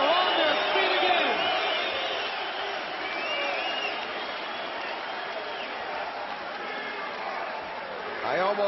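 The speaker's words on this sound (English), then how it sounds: "this crowd picks up the Freeman chant" Arena crowd at a fight between Ian Freeman and Frank Mir roars and cheers continuously after the bout ends, a dense wash of voices with rising whoops, loud and steady throughout.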